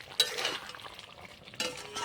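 Garam masala powder being stirred into a yogurt and drumstick curry, two quick scrapes of a spoon against the pan over a faint simmer, close and fairly quiet.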